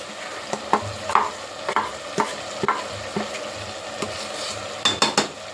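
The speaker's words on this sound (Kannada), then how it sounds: "ಇವಾಗ ಇದನ್ನು ಒಂದು ಸ್ವಲ್ಪ ಎಣ್ಣೆಯಲ್ಲಿ ಫ್ರೈ ಆಗಲಿ" Ground masala paste frying in oil in a pan while being stirred, a loud sizzle punctuated by repeated sharp spoon scrapes and clinks against the pan at an irregular rhythm.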